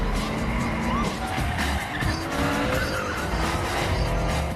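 Several sports cars pull out together in an action racing film, engines roaring loudly as tires squeal and skid continuously, close and dense over a constant low rumble.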